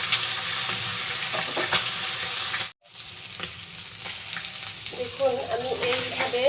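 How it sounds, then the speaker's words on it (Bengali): Bata fish fry in oil in a pan with a loud, steady crackling sizzle and occasional stirring scrapes, broken by one brief silent cut. "সব মাছগুলো ভেজে নিয়েছি"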